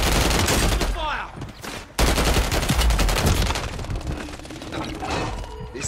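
Heavy video game gunfire, dense overlapping volleys and bursts with mechanical clatter, loud and close, briefly dipping before resuming.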